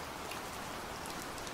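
Steady rain falls in a constant, dense hiss with a pattering patter of drops on a surface, unbroken throughout and without any voices.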